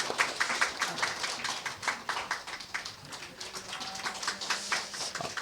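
Church congregation clapping at a founding service, a moderately quiet round of hand claps with an uneven, patchy rhythm from many people in the sanctuary.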